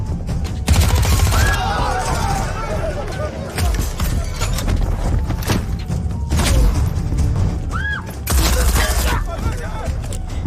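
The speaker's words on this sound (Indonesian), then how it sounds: "kaget mendengar tembakan itu" Bursts of gunfire crackle through a tense hospital scene in a terrorist attack film, loud and repeated, with shouting voices and commotion underneath.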